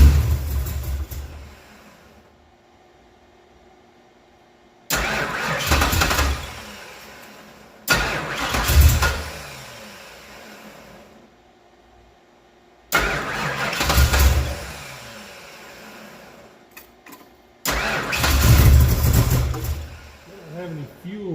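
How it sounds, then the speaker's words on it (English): A big block Ford Foxbody, a 1983 GT, cranks repeatedly in four separate bursts, each a loud whirring starter churn with engine sputters that briefly catch, separated by quiet pauses. "Let's just give it another whirl here."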